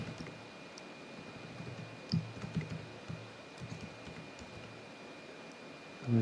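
Quiet clicking of keys on a computer keyboard as a file name is typed, scattered light taps over a low steady hum with a faint tone.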